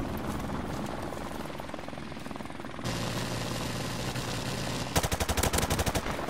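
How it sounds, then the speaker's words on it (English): A video game helicopter's rotor thumps along with bursts of rapid gunfire, steady and loud throughout, with a sharper, heavier machine-gun rattle near the end and no voices. "Trying to take out my helicopter."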